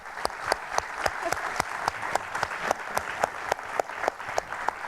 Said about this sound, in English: I'd like to ask the audience if you would give our panel a round of applause here.